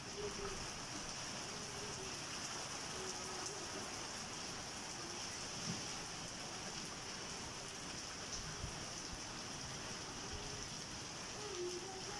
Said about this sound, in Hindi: बारिश का रुकने का नाम नहीं ले रही।